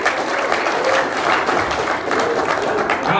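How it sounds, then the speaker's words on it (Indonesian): Audience at a regional labor union congress in Jambi, Indonesia, giving a dense, sustained round of clapping that stays loud and even for the whole stretch. "Itu kita tepuk tangan."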